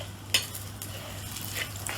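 Curry leaves and chana dal fry in a pan with a soft, continuous sizzle, marked by a sharp scrape of a spoon stirring near the start and a few lighter clinks later.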